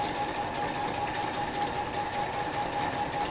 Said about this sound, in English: I'm going to stitch along the seam line, so in the ditch going around my bow tie.